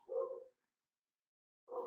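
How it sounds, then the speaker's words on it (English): A dog barks twice, short bursts separated by more than a second of silence, close and moderately loud with nothing else heard. "You'll have to excuse my dog's barking in the background."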